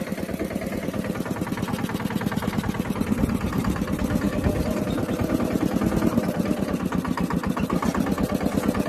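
A mini tractor engine drones loud and close with a fast, even pulsing throb as it pulls a rotavator through a cotton field, running steadily the whole time without voices.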